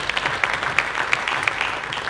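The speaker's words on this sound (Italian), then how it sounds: "un applauso" At an Italian space week event, a modest audience claps for a speaker, sparse individual claps standing out within a thin, uneven round of applause.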